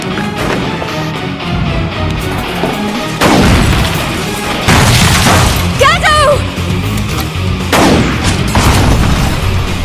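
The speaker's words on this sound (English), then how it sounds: "An ether rifle!" Ether rifle shots from a Xenoblade Chronicles cutscene fire as a few loud, sharp booming blasts spaced several seconds apart, mixed with voices, scattered impacts and a brief whistling sweep.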